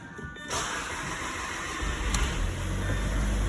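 An Audi A4 engine with an excess-pressure PCV valve fault cranks and catches after a short starter whir, then settles into a steady, close idle, heard alone without talk.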